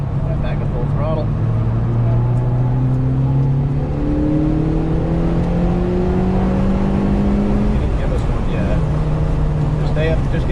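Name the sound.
car accelerating at full throttle on race track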